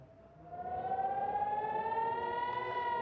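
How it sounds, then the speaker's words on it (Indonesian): A civil defense air raid siren wails over Nahariya during a rocket attack, its single tone rising slowly and then holding steady, loud and continuous, with no voices. "Sirine pun terus berbunyi tanpa henti saat rudal memasuki langit kota Naharia."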